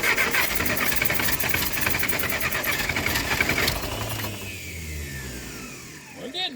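A classic tractor engine that has sat for years cranks on choke with a rapid rhythmic churning, then catches and settles into a lower, uneven running note near the end, close and loud.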